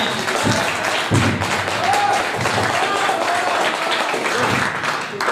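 Audience applause at a Hindi comedy poetry gathering in Banda, a steady wash of clapping from a crowd that holds evenly for about five seconds with a few louder thumps near the start.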